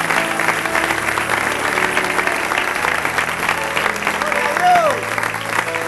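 A church congregation at a Spanish-language service claps together in praise, a steady, moderately loud wash of applause blended with background music and a few voices.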